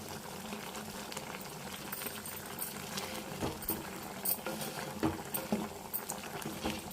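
Onion gongura curry bubbling in a clay pot, dense close popping and crackling with soft scraping as it is stirred.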